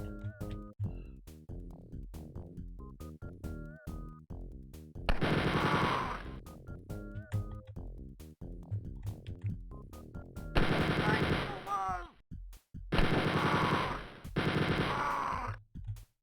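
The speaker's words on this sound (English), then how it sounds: "I think I need to use the minigun on these guys" Minigun bursts from Wolfenstein 3D, fired at mutants: long sustained rattling volleys with short single shots between, loud and up close, with in-game grunts.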